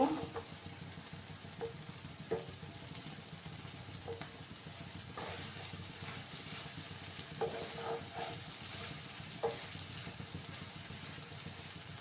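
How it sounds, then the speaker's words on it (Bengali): Pointed gourd cooked with egg fries in a pan as its water cooks off: a steady close sizzle and hiss runs throughout, broken by several soft scraping stirs. "আর একটু সময় আমি এটাকে ভাজা ভাজা করে নেব।"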